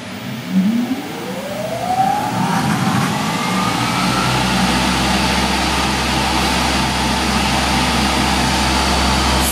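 A spindle motor driven by a VFD, set to a five-second acceleration time, spins up with a rising whine that climbs steadily in pitch over the first few seconds, then holds a loud, constant high-speed drone under broadband noise.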